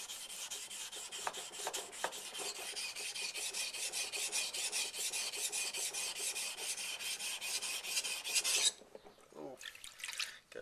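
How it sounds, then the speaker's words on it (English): A leveling stone rubbed with grit across a waterstone surface while convex sharpening: steady, rhythmic gritty rasping strokes, close and fairly quiet, stopping shortly before the end. "I'm just putting a little grit on the surface to see if we can't agitate the stone"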